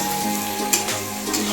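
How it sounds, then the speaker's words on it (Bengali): Soybean chunks fry in a pan with salt, turmeric and sugar, giving a steady close sizzle with a faint scrape of stirring partway through, no voices. "সয়াবিনটা দিয়ে এবার ভালো করে নাড়াচাড়া করে নেব"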